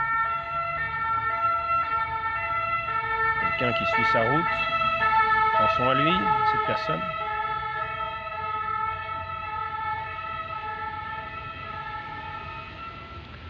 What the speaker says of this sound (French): comme nous entendons la sirène